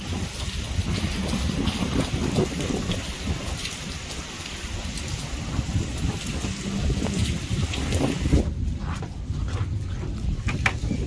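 Heavy rain pours down steadily during a violent storm in Khadimabad, Dadyal, a dense, constant roar of drops hitting surfaces for the whole stretch, with faint rumbles of thunder beneath and no voices.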